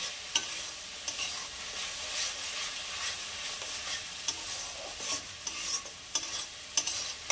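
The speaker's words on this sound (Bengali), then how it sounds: "এবার এই মশলাটাকে আমি পুরো কষিয়ে নেব" Spice masala for chana masala with red chilli powder frying in a pan, a steady close sizzle broken by repeated scrapes and clacks of a spoon stirring it, no voices.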